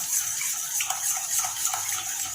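Water swished and stirred with shampoo in a small basin to clean a gold-covered chain, a faint continuous wet splashing with light squeaks, no talk.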